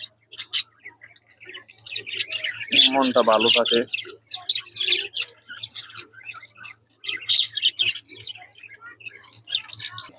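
Pet budgerigars at play in the afternoon give bursts of bright, rapid chirps and tweets, close and lively, with a voice briefly talking among them.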